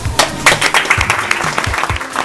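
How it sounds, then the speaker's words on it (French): Applause at a funboard windsurfing championship prize-giving for the women's slalom podium, uneven clapping with distinct hand claps and thumps close by, fairly loud, a few voices mingled in. "On applaudit les trois."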